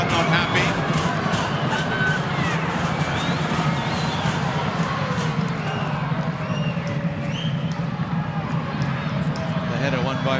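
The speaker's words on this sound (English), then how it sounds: "The crowd not happy." A stadium crowd at an A-League football match between Adelaide United and the Newcastle Jets rumbles and jeers in steady displeasure, with a commentator talking over the noise throughout.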